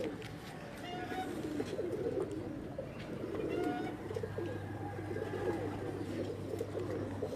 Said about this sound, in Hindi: टोपी वाली जो ब्रीड का कबूतर है